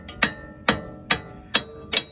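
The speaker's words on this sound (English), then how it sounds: "Come at it from this side and start tapping this way." A hammer tapping metal on the front wheel hub bearing of an Infiniti M37/M56/Q70, five sharp, ringing strikes at a steady, unhurried pace, close and clear with no talk.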